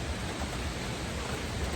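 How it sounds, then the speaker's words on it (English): Steady rain falls on a lean-to shelter along a long-distance trail, a dense, even hiss of drops on the roof with no breaks, moderately loud and close. "It has been raining all night, and it's still raining now."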